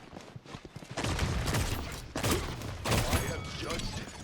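Gunfire from a shooter in the video game Paladins, a dense stretch of shots and impacts after a quieter start, mixed with game effects and a voice talking over it.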